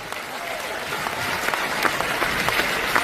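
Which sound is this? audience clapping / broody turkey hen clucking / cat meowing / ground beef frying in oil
audience clapping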